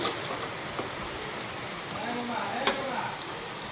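Heavy rain pours down outside a home kitchen, a dense continuous hiss with scattered sharper drop ticks throughout.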